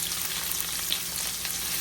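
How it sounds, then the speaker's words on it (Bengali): Chopped garlic sizzling steadily in hot oil, a dense continuous crackle close up with no talking, being stirred lightly while it browns for a red spinach dish. "রসুনগুলো দিয়ে আমি একটু নেড়ে চেড়ে হালকা লাল করে ভেজে নেব।"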